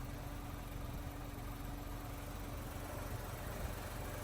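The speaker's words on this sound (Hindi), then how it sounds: "ये 1000 सीसी पेट्रोल इंजन आप देख रहे हैं, इसकी है 71 हॉर्स पावर।" A Nissan Magnite's 1000 cc petrol engine, rated at 71 horsepower, idling steadily with a low even hum and faint vibration, heard up close under the open bonnet with no talk.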